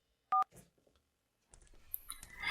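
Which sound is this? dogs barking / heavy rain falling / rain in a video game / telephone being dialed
telephone being dialed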